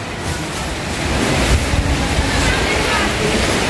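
Sea waves wash onto a front beach at Lubo, Batangas, a loud, close, broadband rushing roar that swells and stays steady, mixed with wind buffeting the microphone.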